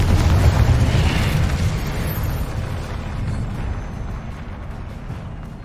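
A Confringo spell blasts in the Hogwarts Legacy video game, a loud, rumbling explosion that roars at the start and slowly fades into a sustained low boom with no voices.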